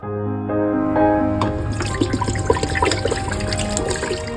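Water pours steadily into a container to soak glass noodles for a Thai clear tofu and minced pork soup, a loud continuous rushing stream that turns bubbly and splashy as it fills.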